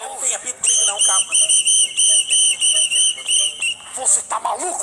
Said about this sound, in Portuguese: Me dá esse apito aqui!